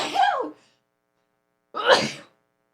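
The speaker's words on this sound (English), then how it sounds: "I sneezed." Two sneezes from one person sound close and loud, separated by about a second of silence.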